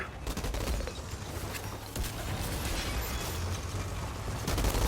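Sustained gunfire from a weapon in the sci-fi shooter video game Outriders, a dense, continuous rattle of rapid shots with bursts and pops running throughout, close and loud with no talking.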